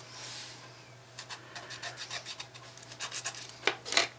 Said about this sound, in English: you just give it a good file